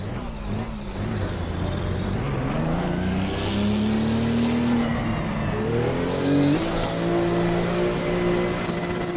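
A rear-engined, rear-wheel-drive GT2 race car from the GT2 pack of the racing game Assetto Corsa Competizione, heard from inside the cockpit, revs steadily up through the gears with rising and falling engine pitch, loud and continuous.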